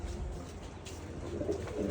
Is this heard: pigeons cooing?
yes